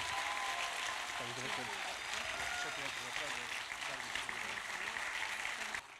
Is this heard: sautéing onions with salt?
no